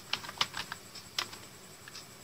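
Computer keyboard being typed on to enter a command, a quick run of about a dozen light, close clicks and taps over roughly two seconds, fairly quiet with no voice.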